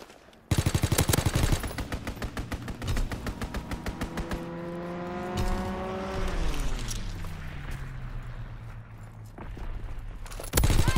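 Strafing run in Call of Duty WWII: rapid bursts of gunfire open loudly, then a droning aircraft engine pitches down as it passes, with scattered shots continuing and a final loud burst at the end.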